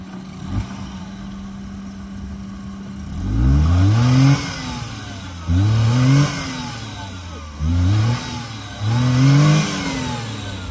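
A Maruti 800 car engine revs hard in four repeated surges while offroading, each burst climbing and falling in pitch with brief idle gaps between, loud and close.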